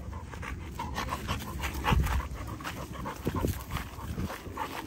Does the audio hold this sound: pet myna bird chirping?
no